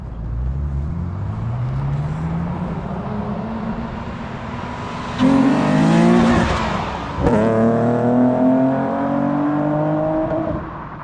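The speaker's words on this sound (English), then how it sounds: "So he's gonna do a 25 pull in first gear." A six-speed car's engine revs hard in first gear and climbs in pitch, cuts briefly, then surges again with a loud rising roar, close by.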